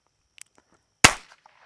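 A single sharp dueling pistol shot cracks out in a video game, sudden and loud with a short decaying tail, after a few faint clicks.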